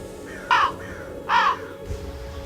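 Two loud, harsh crow caws about a second apart, close by, followed by a fainter third call over a low background hum.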